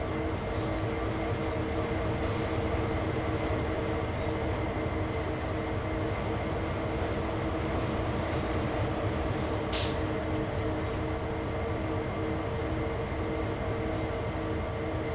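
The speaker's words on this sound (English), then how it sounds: "here comes the train" A BNSF SD40-2 freight train in Train Sim World 3 rolls steadily past on the Hesperia to Barstow line, a continuous loud rumble with droning tones and scattered clanks, brief hissing bursts, no voices.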